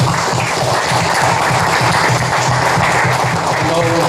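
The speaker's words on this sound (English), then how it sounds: "I'd like to give them a big round of applause as well" A crowd at a city commission meeting gives the parents a loud, sustained round of applause, dense clapping that fills the room, with a voice faintly underneath.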